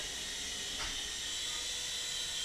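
A small Audely Storm Eagle RC helicopter flies inside a room, giving a constant high-pitched rotor and motor whine with a faint swell partway through, steady and fairly quiet without speech.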